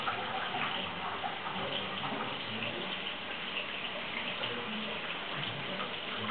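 Running tap water at a kitchen sink while onions are washed, a steady close splashing rush that holds even throughout with no pauses.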